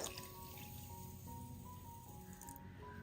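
Two cups of water poured into a pan of sugar to make sugar syrup, a steady continuous close pour with no talking.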